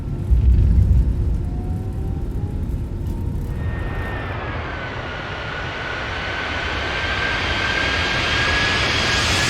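An Airbus A320 in the Fenix flight simulator touches down on a runway as its ground spoilers go from half to full deployment. A loud, steady engine and airflow roar fills the scene, with a thin whine that rises partway through and then holds. No one speaks.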